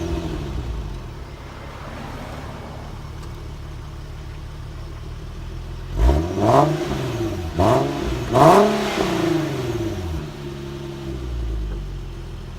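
A 2016 Infiniti QX70 idling steadily, then revving through its exhaust in three sharp blips that rise and fall, loud and close, before settling back to a smooth idle.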